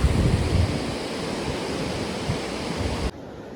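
Two waterfalls meeting near a mountain trail to a temple: a loud, steady broadband roar of rushing water that drops abruptly to a softer level near the end.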